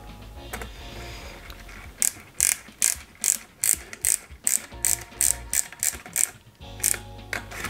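Small BP screws are driven into plastic parts of an Eaglemoss Ghostbusters Ecto-1 scale model, giving a steady run of sharp, close ratcheting clicks in quick regular bursts from a screwdriver, with no voices.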